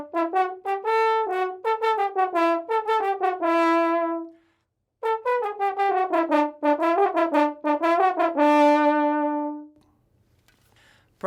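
Brass hunting horn call melody in the style of Haydn's era, a bright, shrill natural horn playing a series of short rhythmic phrases, a pause, then more calls ending on a long held note, loud and close with no talk.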